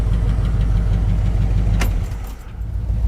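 A 1959 Dodge Coronet engine runs loud and close with a steady low rumbling idle and a brief sharp burst midway, the level dipping slightly toward the end.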